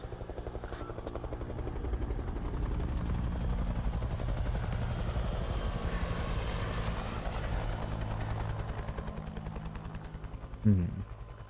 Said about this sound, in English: I would like to know where that helicopter is going, as that is not something one sees here every day.